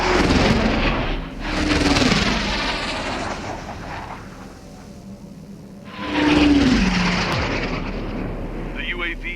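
Jet aircraft from Ace Combat 7 roaring past in two loud broadband swells separated by a quieter stretch, with a voice talking in between.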